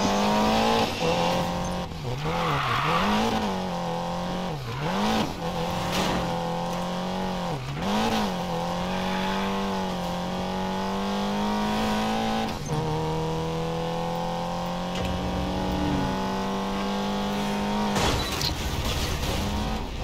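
Car racing in Need for Speed Payback, a steady loud engine drone with wavering pitch as the car revs and shifts gears, continuous and close with occasional tire noise.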